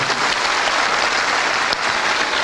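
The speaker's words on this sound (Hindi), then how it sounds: "तो मैं चाहूंगा उनके पिताजी के लिए जोरदार तालियां जरूर होनी चाहिए।" Steady, dense applause from a seated audience at a network-marketing seminar, loud and continuous throughout with no talk over it.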